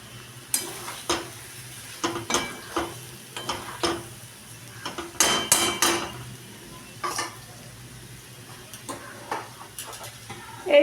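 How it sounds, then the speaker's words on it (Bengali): A dry-cooked egg dish, dim chochchori, is transferred from the pan into a pot, with metal utensils scraping and clinking in irregular bursts against a low steady hum. "এইবার এটাকে একটা পাত্রে ঢেলে দিই।"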